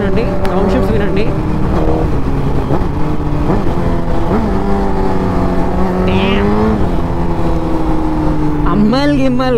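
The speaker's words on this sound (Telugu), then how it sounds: "గేర్ షిఫ్ట్స్ వినండి, డౌన్ షిఫ్ట్స్ వినండి." A Suzuki GSX-R1000 motorcycle with a 1000 cc, 200 bhp engine revs hard and loud, its pitch climbing and then dropping sharply at each gear shift and downshift, with a final rising rev at the end.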